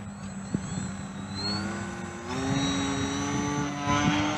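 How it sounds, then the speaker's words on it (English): A student team's model airplane with a propeller engine buzzes steadily and fairly loudly, its whining pitch shifting upward partway through, with no voices. "that plane that you guys just saw was actually mine and Jared's plane that our team built"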